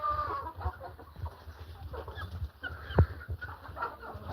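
Chickens cluck and murmur close by in a steady, overlapping chatter, with one brief louder squawk midway.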